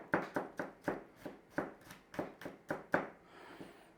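A knife working on smashed garlic on a cutting board: a steady run of about a dozen crisp, quiet taps at an even rhythm, close up, with no talking.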